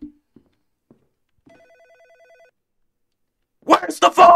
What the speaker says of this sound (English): Where the fuck is the phone?